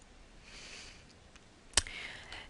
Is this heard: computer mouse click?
yes